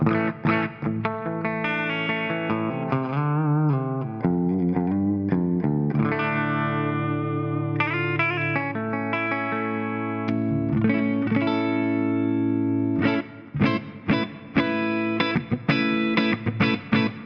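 An electric guitar played with a clean, undistorted tone, strummed chords and picked single notes ringing out steadily, with no voices.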